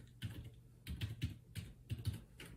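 Computer keyboard typing, a few short bursts of key presses in quick clusters, close and fairly quiet with no talking.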